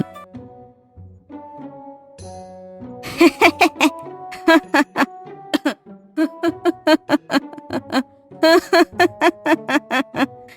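Ducks quack loudly and close by in rapid, repeated bursts, with brief pauses between flurries.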